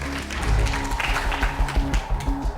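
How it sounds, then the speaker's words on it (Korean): Audience at a Korean televised science lecture contest clapping to welcome four expert speakers onto the stage, a brief spell of applause over background music and hall noise. "박수로 맞아주시죠."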